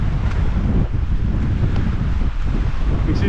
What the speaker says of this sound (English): You can see just how windy it is up there